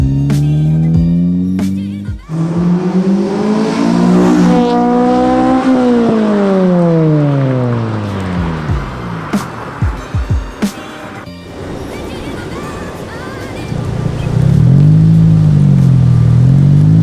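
An 8th-gen Honda Civic Si engine with a K-Tuned cold air intake and Invidia N1 catback exhaust revs hard and repeatedly, pitch climbing and falling with loud intake whoosh, then settles to a lower rumbling idle before rising again.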